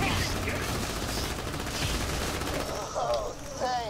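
Rapid gunfire in Borderlands The Pre-Sequel, a dense, continuous stream of shots with a few chirping game effects near the end, loud and close throughout.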